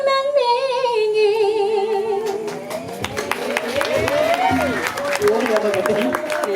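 Audience applause at a Balinese comedy stage show, a burst of clapping rising over singing and voices, with sharp claps scattered through the second half.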